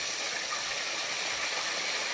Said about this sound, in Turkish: Ağır ağır kızartın kabaklarımızı.